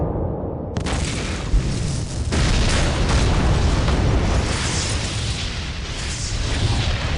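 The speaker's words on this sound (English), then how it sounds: "As the Siona Trade Building exploded before their very eyes" The Siona Trade Building exploding in an Elite Dangerous story: a sudden loud blast kicks in after a quiet rumble, then a long roaring wall of debris and fire noise sustained at full volume.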